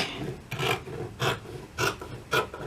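Scissors trim excess fabric from a sewn Bible carry pouch in four separate rasping cuts, close by and unevenly spaced, with no talking.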